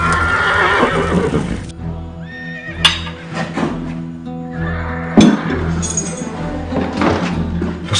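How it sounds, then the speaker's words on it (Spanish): Horses whinny loudly and repeatedly while hooves clip-clop close by, with a few heavy thunks breaking in, all in a busy, continuous outdoor scene without talk. "Los caballos."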